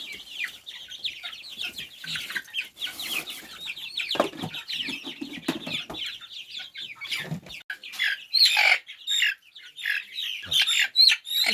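Native country chickens cluck and squawk continuously at close range, a busy flock with overlapping calls and sharper squawks rising toward the end, no talking.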